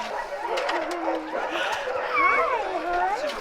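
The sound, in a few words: sled dog whimpering and yipping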